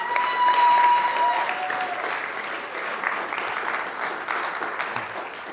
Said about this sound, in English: So let's give Kevin Kubota a big round of applause.